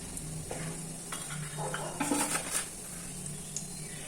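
Mustard seeds and cumin hit a hot pan for uppittu, giving a soft steady sizzle with light crackles and faint stirring and utensil clatter close by, no talk.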